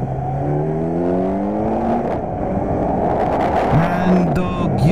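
A Kawasaki Z900 motorcycle ridden through Hyderabad: loud, close engine drone whose pitch climbs steadily through the gears, then drops and rises again, with wind rush throughout.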